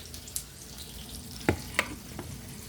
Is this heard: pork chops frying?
yes